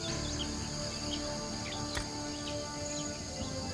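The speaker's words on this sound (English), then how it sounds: "Insects, the variety of their forms is staggering." Jungle insects on the forest floor make a steady, dense drone of chirps and buzzing, with faint bird calls mixed into the constant ambience throughout.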